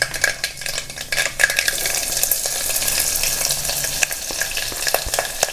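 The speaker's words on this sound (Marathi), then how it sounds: "आता यात मी मिरची घालणार आहे" Chopped chilies sizzle in hot tempering oil with cumin and mustard seeds for Marathi kadhi, a steady close frying hiss broken by scattered crackles and spoon-stirring clinks.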